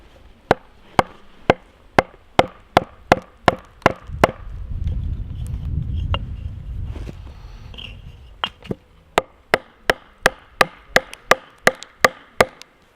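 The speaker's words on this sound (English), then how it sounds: "You can hear the wood cracking, that's good." A log being split with an axe and wedges: a long run of sharp, evenly spaced strikes, interrupted midway by a few seconds of low rumbling and creaking as the wood gives, then the regular blows resume.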